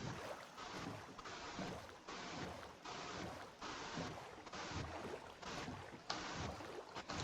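A boat glides through water in Minecraft, giving a soft, continuous splashing and rushing wash with gentle rhythmic swells, fairly faint and heard alone without talk.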